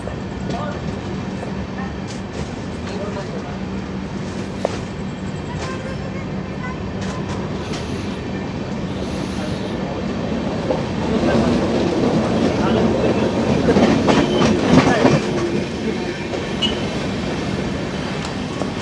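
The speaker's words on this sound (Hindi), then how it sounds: "अपनी ट्रेन डिपार्ट कर रही है गुडूर जंक्शन रेलवे स्टेशन से।" A Garib Rath express train pulls out of Gudur Junction station, heard from on board as a steady low rumble with faint rhythmic clacking that grows louder and busier as it gathers speed.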